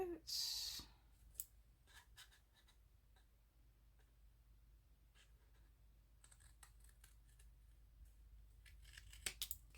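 Scissors cut through inked paper tags in a quiet craft session, giving a loud crisp snip at the start and then faint clicks and a couple of small snips near the end.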